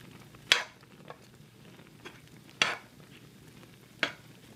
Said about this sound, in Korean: 일단 잘 섞이게 이제 해줍니다